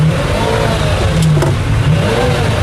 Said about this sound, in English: to listen to that V12 in the back is very special.